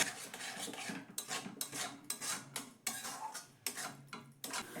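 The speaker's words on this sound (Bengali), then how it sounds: "আর এটা কিন্তু নাড়াচাড়া বন্ধ করা যাবে না, অনবরত কিন্তু এখানে নাড়াচাড়া করতে হবে।" Grated raw potato and semolina worked into a dough in a pan over the stove, a close, continuous series of scraping and rubbing strokes from a spatula against the pan in an irregular rhythm.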